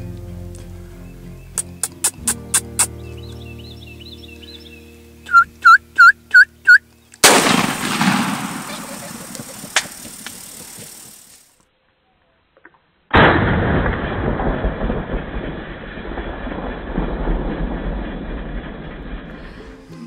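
Gunfire during a turkey hunt in the Ozarks: a few sharp outdoor bursts followed by loud, sustained rumbling noise, with quieter rhythmic clicks and pops before them, and no speech.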